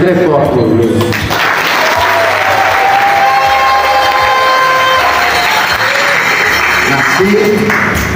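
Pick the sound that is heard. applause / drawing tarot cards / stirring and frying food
applause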